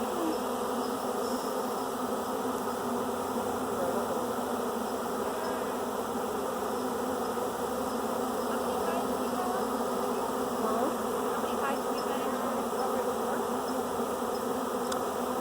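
Dense, steady buzzing of many honey bees around about thirty beehives at a ranch, a continuous close drone that holds at an even level throughout, with no voices.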